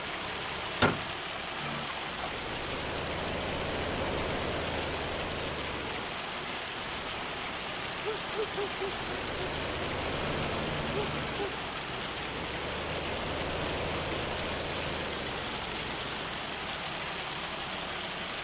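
Hail falls in the video game Farming Simulator as a steady, dense patter that runs unbroken throughout, with a low tractor rumble rising and falling underneath.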